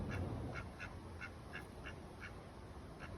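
A duck quacks repeatedly in short, evenly spaced calls over a steady background hum, close by, during a job checking an HVAC capacitor.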